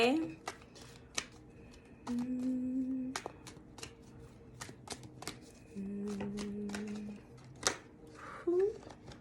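Tarot cards being shuffled close up, a run of crisp riffling snaps and flicks in irregular bursts, with soft humming or voiced tones in between.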